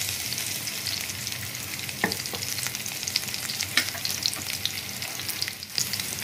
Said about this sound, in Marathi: आतां तेल तापलें उज्जसाण करता आनी धाडयले लसूण